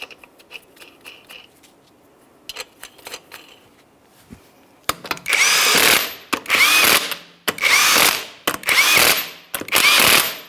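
Impact-style power tool tightening six 22 mm lug nuts on a 2015–2020 Cadillac Escalade front wheel, heard as five loud sustained buzzing bursts about a second each, preceded by quieter clicks and handling noises.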